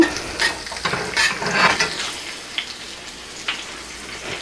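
Chopped garlic and green chilies frying in a pan, stirred with a utensil; scraping strokes and soft sizzling crackles come in bursts early on, then thin to faint sparse pops.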